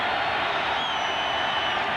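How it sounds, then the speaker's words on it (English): A large stadium crowd roars at a 1990 NFL game between the Seahawks and Broncos, a dense, continuous wash of cheering and noise filling the space at high volume. "the volume and the pounding is coming up because the crowd really does need to get back in the game here"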